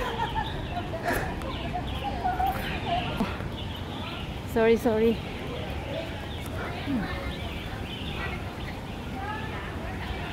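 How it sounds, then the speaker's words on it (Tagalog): Several short chirping bird calls ring out amid a busy outdoor background, with people talking nearby and a brief burst of louder calls midway. "Mga huni ng ibon."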